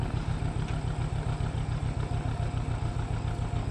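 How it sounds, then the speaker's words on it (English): A 1973 Opel GT with its exhaust dragging, heard as a steady low engine rumble with a continuous scraping clatter running through it throughout. "Oh, the exhaust is dragging."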